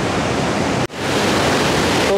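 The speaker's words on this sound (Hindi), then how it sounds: "देखो पानी का साउंड सुनो आप" Water roars through the partly open gates of Kota Barrage in a loud, steady broadband rush, with one brief dropout before the torrent resumes at full force, no voices.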